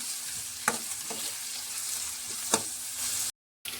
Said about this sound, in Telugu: ఉల్లిపాయలు అయితే వేసుకొని ఆయిల్ వేసుకొని వేగిస్తున్నాను